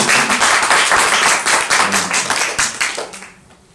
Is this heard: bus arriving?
no